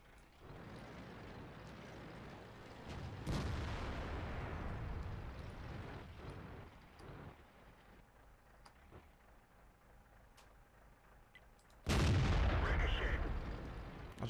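Tank cannon fire in the video game World of Tanks, with one booming blast partway through and a second, louder blast near the end. Engine rumble and faint battle noise fill the gaps between them.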